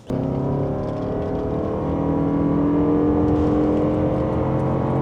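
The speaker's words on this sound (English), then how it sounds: "Today we are driving the new Toyota Alphard." Interior drive in a Toyota Alphard 40 series with a 2.5L hybrid powertrain, a steady close cabin hum with rising engine drone and road roar that holds level throughout, no talking.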